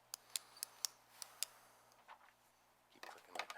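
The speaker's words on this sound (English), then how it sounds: "Keep clicking my pen, sorry." Pen clicked about six times in a quick, uneven run of sharp, close ticks at a planning board meeting, followed by faint murmuring voices in a quiet room.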